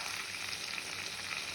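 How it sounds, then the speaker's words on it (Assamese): Meat sizzles and fries steadily in hot oil with spices, a continuous close crackling hiss with no pauses and no talk. "মছলাখিনি দি এতিয়া 20-25 মিনিটমান ধুনীয়াকৈ ভাজি ল'ম ৰঙচুৱাকৈ"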